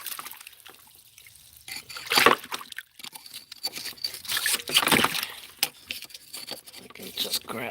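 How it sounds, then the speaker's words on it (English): Water sloshes and drips as an object is dunked, with irregular splashing and trickling bursts at moderate volume under a person speaking. "that's why I dunk it in the water"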